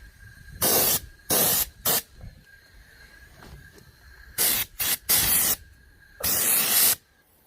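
Spray gun bursts from an Airmaster Tiger 16/1050 100-litre air compressor painting the side of a VW T25 van: several loud, close hissing blasts of a second or so each, split by short pauses with low background noise.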